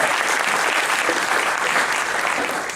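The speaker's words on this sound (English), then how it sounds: "Give her a round of applause." Brief burst of audience applause in a room, a dense, even patter of many hands clapping close by, tapering slightly at the end.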